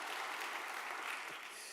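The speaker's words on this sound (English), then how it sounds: "PS says you have to give me a round of applause for that" An audience at the Invest Jamaica 2022 conference breaks into steady applause, a dense wash of many hands clapping that holds evenly throughout and tapers slightly at the end.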